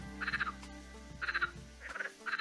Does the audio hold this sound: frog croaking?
yes